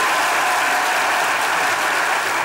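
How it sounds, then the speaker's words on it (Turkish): Loud, sustained studio-audience clapping for a couple on the Turkish comedy show Çok Güzel Hareketler 2, a dense, even wash of many hands that fades slightly at the end. "Alkışlar çiftimize gelsin"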